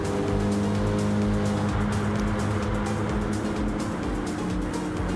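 A BMW race car in a racing video game at Mount Panorama holds a loud, steady engine drone at high revs with a faint hint of tire noise, continuous and up front throughout.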